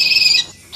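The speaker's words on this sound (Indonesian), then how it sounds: "Suara burung yang berkicau." A bird gives a brief, bright chirp, a single short high call that fades quickly, heard alone with no voices.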